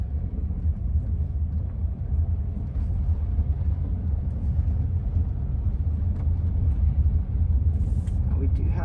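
A Rivian R1T electric truck rolling slowly along a bumpy dirt trail gives off a steady low rumble and road noise throughout, with a person talking over it.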